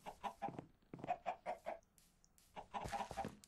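Chickens clucking in the Minecraft video game near a chicken farm, a run of short, quick clucks in two bursts separated by a brief pause, moderately faint and with no talking.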